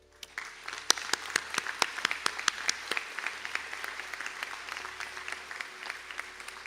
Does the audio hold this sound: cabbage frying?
no